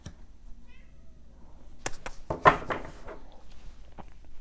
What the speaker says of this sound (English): My cat wants to go outside.